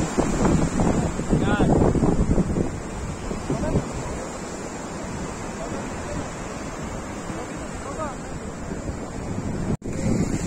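Sea waves wash onto the Khafji coast in Saudi Arabia with wind buffeting the microphone, a continuous rolling surf that swells louder early on, and people talk over it.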